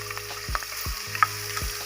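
Garlic ginger paste fries in hot oil with a soft sizzle, broken by a few low thumps and a light scrape of a spoon against the pan, close and brief.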